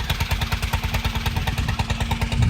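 A vintage motorbike engine idles up close at an outdoor steam and vintage fair, with a steady, loping rhythm of rapid low thumps, loud and continuous with no voices.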